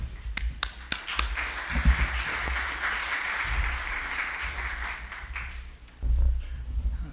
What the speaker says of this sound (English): we just want to have you give these people a fine round of applause